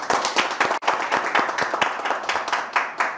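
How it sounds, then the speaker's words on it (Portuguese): Audience applause at a Portuguese-language political address about civic-military schools in Manaus, with dense, steady clapping from a crowd throughout, fairly close and loud, with no talk over it. "a gente tem que aplaudir"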